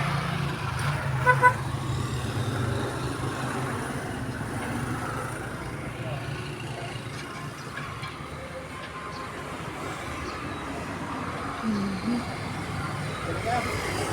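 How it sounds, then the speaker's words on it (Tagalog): Steady roadside traffic at a street vendor's stall, with cars and trucks passing continuously in the middle distance, a brief horn toot near the start and voices talking in the background. "Marami sa sakyan dumadaan dito."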